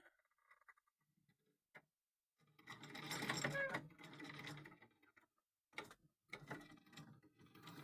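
An old Vesta sewing machine with a newly fitted drive belt runs in bursts, a mechanical whirring clatter that starts, stops briefly, then resumes close by, with faint ticks before it starts.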